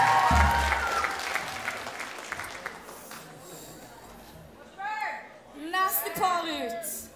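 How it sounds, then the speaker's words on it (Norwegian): Crowd applause at a Norwegian graduating students' event greets a presented couple; loud clapping opens, then fades under background chatter and children's voices, with a few high squeals near the end. "Gi en varm applaus til det flotteste paret"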